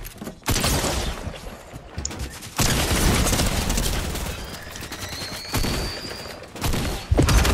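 Close, loud bursts of gunfire in a Fortnite Zero Build match, several heavy blasts and rapid volleys separated by short pauses, with a faint whistle running through the middle.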